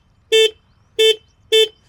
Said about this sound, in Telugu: హార్న్ చూసుకుంటే